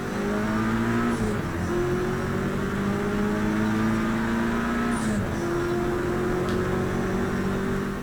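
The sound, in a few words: race car braking in video game Project Cars 3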